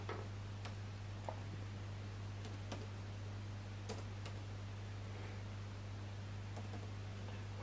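Sparse keystrokes on a laptop keyboard, a handful of faint, separated clicks over a steady electrical hum and hiss, with no talking.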